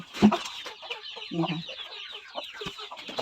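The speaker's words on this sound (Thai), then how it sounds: "ให้อาหารไก่แม่ลูกอ่อน" Mother hens cluck repeatedly up close while being fed, soft overlapping clucks and low murmurs in a busy, continuous stream.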